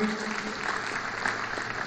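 Audience applause at a Kenyan Jamhuri Day celebration speech, a steady, dense wash of clapping from a large crowd that runs unbroken throughout at even loudness.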